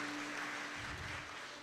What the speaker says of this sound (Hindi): Can we clap for the word of God?